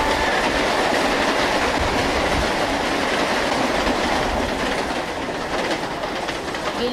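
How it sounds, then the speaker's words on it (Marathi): A train passing close by, a loud, continuous rumble with rhythmic clickety-clack of wheels on the rails, filling the whole stretch with no voices. "थांब थांब थांब थांब जरा ट्रेन जाते"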